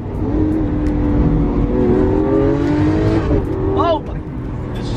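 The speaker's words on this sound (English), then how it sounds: "Okay, so me and Hunter just found out that this Lambo wasn't in Corsa mode." A Lamborghini in Corsa mode accelerates hard, its engine note rising through climbing revs over a loud rushing roar, then dropping with a quick shift as people talk over it.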